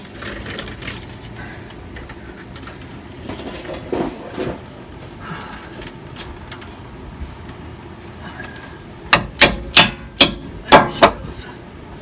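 Hammer blows knock out a worn body mount bushing on a 2012 Ford F350 in a garage, a quick series of six or seven loud, sharp metallic strikes near the end after quieter shop noise.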